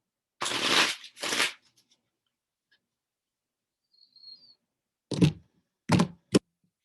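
Tarot cards shuffled by hand in two quick bursts near the start, then three short riffling bursts later, close and clear against an otherwise quiet room.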